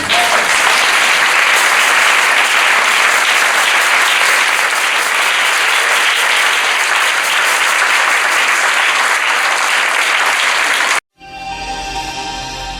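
A church congregation applauds loudly and steadily in a dense, sustained burst. The clapping cuts off abruptly near the end, and a quieter, different sound follows.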